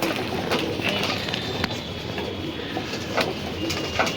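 Pigeons coo and rustle at feeding time in a loft, with soft bird calls and fluttering spread steadily through the clip over a continuous background hum.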